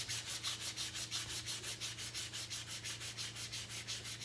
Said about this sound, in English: I will go ahead and hit it with this sandpaper block just to make sure everything's good.